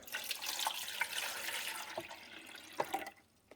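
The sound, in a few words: pouring vinegar into coffee maker reservoir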